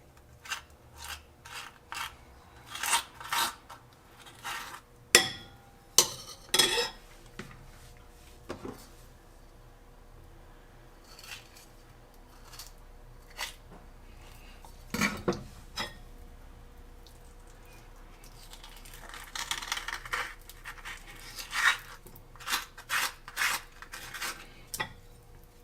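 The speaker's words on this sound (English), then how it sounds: "And you take your spoon again, and what you want to do, you just want to like scoop it out." A metal spoon scrapes ripe avocado flesh out of its skin, giving repeated short rasping scoops and soft clinks against a bowl, close and intermittent with quiet gaps and no voices.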